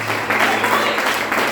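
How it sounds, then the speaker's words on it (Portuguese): A church congregation bursts into dense, continuous clapping at a worship service, filling the room for a brief moment with a loud, even patter. "Você pode aplaudir o Senhor"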